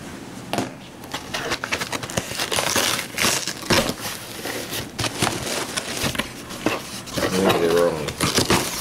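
Crinkling and crushing of packaging material while handling an oversized box of anime DVDs, close rustles and crackles coming in bursts throughout, with a person talking at points.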